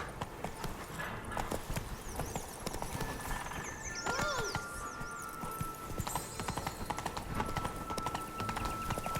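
Roach the horse gallops in The Witcher 3, with steady clip-clop hoofbeats over a busy game soundscape and a brief whinny midway.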